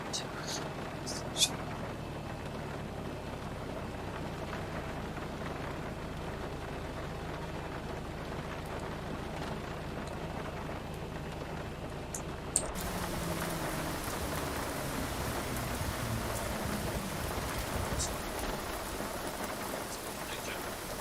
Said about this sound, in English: It's raining in Edinburgh?